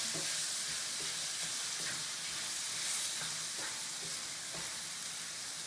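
Tomatoes for a chicken pasta dish frying in a pan, a loud, steady close-up sizzle with a constant hiss, broken by occasional soft stirring scrapes.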